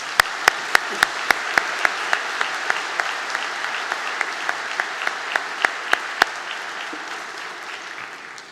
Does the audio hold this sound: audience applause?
yes